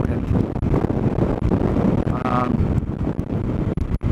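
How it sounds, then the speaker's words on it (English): Strong wind buffeting the microphone on a Suzuki DL-800 V-Strom or Indian FTR 1200 motorcycle ride, a loud continuous roar with gusty fluctuations and a voice partly under it. "it's windy as hell today."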